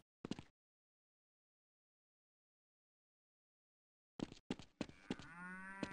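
Cattle moo in a video game farm map. A short clipped sound comes first, then after a silent gap a loud, close, drawn-out moo with a few brief onsets ends the stretch.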